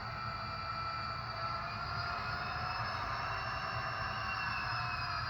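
An F40PH-2D model locomotive sound unit runs in freight mode, giving off a steady, continuous diesel engine drone with whining tones. The sound stays at an even, moderate level throughout.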